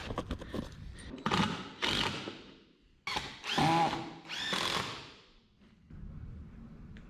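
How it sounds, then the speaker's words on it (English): A power drill bores into wood for a shop jig in several close, loud bursts, each a revving whine that winds up and then trails off, with short pauses between them and no talking. "So I guess we'll keep drilling some more of these."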